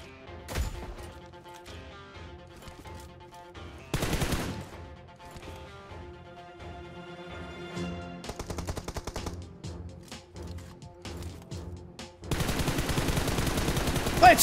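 Automatic bursts of Glacier M4 assault rifle fire in a video game, repeated volleys over game music and effects, with a long loud sustained stretch near the end.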